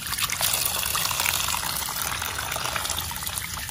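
Water splashes and gushes steadily in a basin as live freshwater prawns are washed, a close, continuous trickling and pouring with no one talking.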